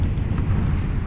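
Rumbling explosions in PUBG (PlayerUnknown's Battlegrounds) run together into a dense, continuous low roar with a crackling edge, like a fireworks barrage, loud and steady for about a second with no talk.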